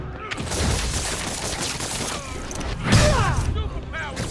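Enemy gunmen in Marvel's Spider-Man open fire in a dense, continuous volley of rapid shots and clatter, with game voices shouting over the steady barrage.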